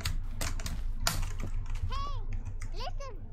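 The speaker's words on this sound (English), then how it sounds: "do not know how to set a microphone filter so that you do not hear my keyboard noises when I am doing parkour" A computer keyboard clatters with fast, steady key clicks close to the microphone, while a voice briefly sounds over the typing.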